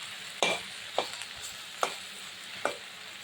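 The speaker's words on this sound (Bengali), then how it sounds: "এইভাবে আমি একটু সময় ধরে এই শাকটা ভেজে নিচ্ছি" Jute greens sizzling in a pan under a steady hiss, with four scraping stirs of a spatula spaced about a second apart.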